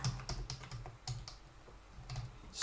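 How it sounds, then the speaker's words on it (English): Fingers type on a computer keyboard to enter a statement, with a steady run of close, clicky keystrokes in short uneven bursts and no talking. "And here I want to type in statement"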